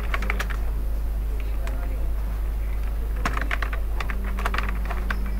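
An address is typed on a computer keyboard in MS Word, close irregular bursts of key clicks over a constant low electrical hum.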